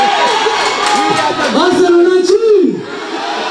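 Manchester United and Arsenal football supporters gather as a crowd, cheering and chanting loudly with rising and falling shouts throughout, mixed with voices nearby.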